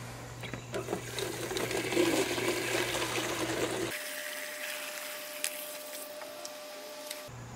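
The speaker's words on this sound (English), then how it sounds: "So let's fill it with some rainwater, and then it's going to be a lot more substantial." Rainwater pours into a milk jug outdoors, a gurgling splashing fill at moderate level for several seconds, then a quieter trickle with a faint steady hum behind it.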